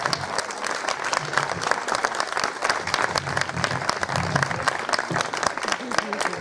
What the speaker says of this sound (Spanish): Gracias por el aplauso, lo necesito